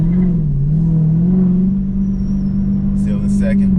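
A Dodge Challenger 392 Hellcat V8 engine drones low and loud from inside the car as it brakes and downshifts, the deep hum dipping and then settling into a steady growl.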